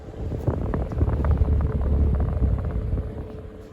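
An old rubber-bladed desk fan with a slightly bent shaft runs close by, giving a steady, low, rumbling whir with faint airy flutter and no talk.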